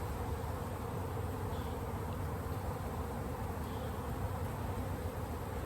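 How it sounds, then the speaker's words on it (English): A large honeybee swarm hums steadily around a hive box, a dense continuous buzz of many bees close by with no break or voices over it. "This is a good hive, a nice big swarm."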